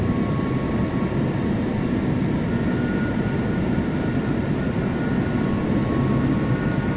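Boeing 737 jet taking off in Microsoft Flight Simulator 2024 at Atlanta airport, a steady, continuous engine roar with a faint high whine, holding even in level throughout, no voices.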